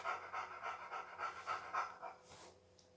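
A dog in the video game 7 Days to Die pants in quick, rhythmic bursts, fairly close, with a faint steady hum underneath and a brief breathy trail-off at the end.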